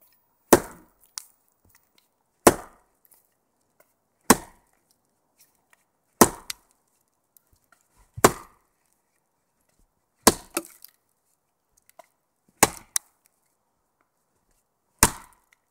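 An axe bites into a tree trunk in eight sharp, loud, evenly spaced chops roughly two seconds apart, each a crisp woody crack with a short ringing tail and an occasional faint follow-up knock, heard alone without talk.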